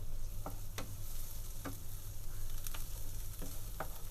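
Vegetables sautéing in a pan with chili flakes and oregano for a Greek vegetarian soutzoukakia, a steady low sizzle under a background hum, broken by several brief stirring scrapes spaced through the moment.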